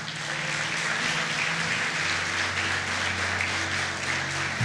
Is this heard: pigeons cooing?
no